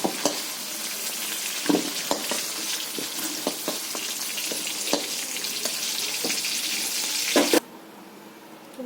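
Spices tempering in hot oil in a wok, with green chillies going in, make a steady close sizzle and fry with sharp crackles and pops. The sound cuts off abruptly near the end.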